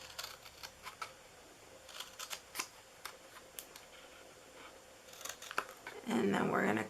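Scissors snip repeatedly into a paper candy holder for a birthday craft, close crisp cuts in irregular bursts with short pauses, ending in a louder rustling handling noise.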